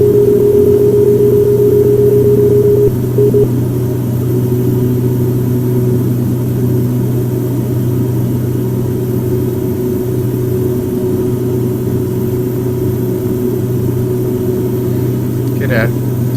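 Twin turboprop engines of a Carenado B1900D in X-Plane 10 hum steadily in the cockpit, a constant droning tone that rises slightly as the throttles come up, with talk over it.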